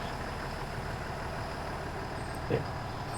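A Super C RV truck with air brakes driving near a garage, producing a steady low engine rumble and road noise throughout, with a brief soft hiss or thump near the end.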